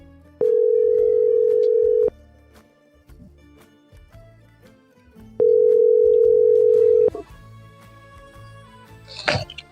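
A telephone ring tone sounds in two long, loud, even bursts separated by a quiet gap, with a faint crackle at the end.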